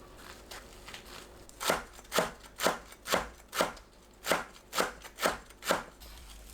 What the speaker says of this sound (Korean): 깻잎은 줄기를 잘라내고 길게 반으로 썰어줍니다. 곱게 채 썰어주세요.